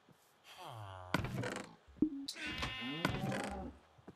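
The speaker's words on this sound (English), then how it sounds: "how did the sheep get in here?" A sheep bleats twice indoors, with two drawn-out wavering cries close by and a brief knock between them.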